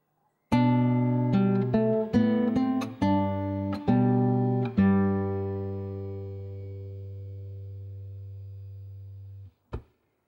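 Clean guitar picks out a quick run of notes and chords from measures 9 and 10 of Minuet in G, then lets a final chord ring and decay for several seconds before a short closing note.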